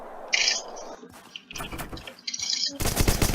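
Assault rifle fire in a video game, bursts of rapid crackling shots in short clusters, close and loud, broken by brief gaps and ending in a sustained volley.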